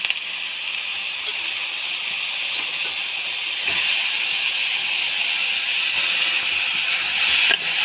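Onions and tomatoes sautéing in a pan for South Indian brinjal gothsu, a steady close sizzling hiss that runs continuously and grows slightly louder, with a few faint clicks and taps of the utensil.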